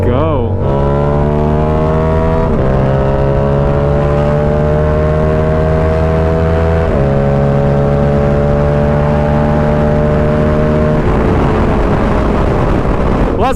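A Yamaha R7 motorcycle fitted with an SC Project CR-T exhaust rides out on the highway, its engine droning loudly and steadily close by, with pitch stepping down at each gear change and then climbing again.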